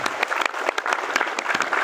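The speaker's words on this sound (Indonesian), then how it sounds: "Tepuk tangan buat mereka." An audience at a community gathering in Jambi claps together, a brief, dense burst of steady applause, close and loud.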